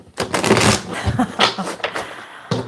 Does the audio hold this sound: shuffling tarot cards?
yes